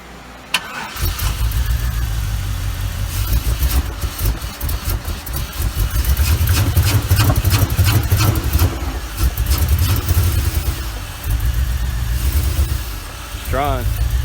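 A car engine cranks and catches, then runs at a loud, rough idle for a long stretch with faint talk over it.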